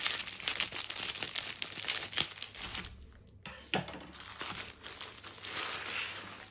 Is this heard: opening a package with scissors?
yes